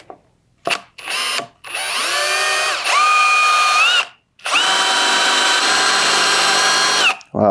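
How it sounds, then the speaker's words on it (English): A power drill with a dull bit whines loudly in several bursts, with short pauses between, the pitch straining and shifting as it bores a hole. "So let's mark and drill this hole."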